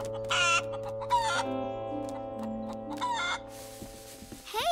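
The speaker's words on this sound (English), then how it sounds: "You surprised the eggs right out of those chickens." Chickens cluck and squawk in short excited bursts on a cartoon farm, with a rooster-like crow rising among them, fairly close and loud against a steady background tone.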